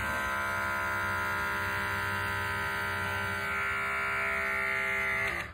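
A small battery-powered mini vacuum face sucker's electric motor buzzes steadily and loudly at close range for several seconds, a constant whine that cuts off at the end.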